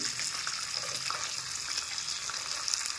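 Garlic and ginger sauté in a pan for momo chutney, giving a steady, close hiss of sizzling oil that runs evenly throughout with no talking.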